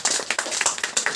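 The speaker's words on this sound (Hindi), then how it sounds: "ताली बजाइए इसके लिए" A small group of students in a classroom hemoglobin-testing practice session claps briefly, a quick run of sharp, evenly spaced hand claps at moderate loudness.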